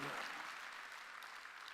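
A church congregation at a Sunday worship service claps in a continuous, even wash of applause, heard faint and distant.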